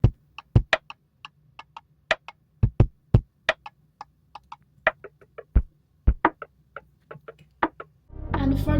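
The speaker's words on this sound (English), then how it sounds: "here you can see I pitched it down 12 semitone. It will sound like this." A drum loop pitched down 12 semitones plays as a sparse pattern of low thuds and clicky ticks in an irregular groove. A deeper sustained swell comes in at the very end.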